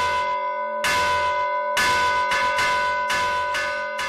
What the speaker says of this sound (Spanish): Y las oraciones de por la tarde se tocaba la mayor, la campana mayor